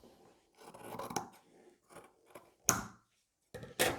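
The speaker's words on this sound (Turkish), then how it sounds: "Ben paçamı buradan kesiyorum." Scissors snip through the hem of denim jeans, a series of close, crisp cuts with short pauses between them and a few sharper closing snaps near the end.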